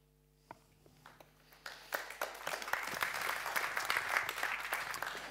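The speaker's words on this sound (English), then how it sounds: "You can, sorry, give a big hand to Commissioner Vella." Conference audience applauding a commissioner, beginning with a few scattered claps, then swelling into sustained, moderately distant applause from the hall.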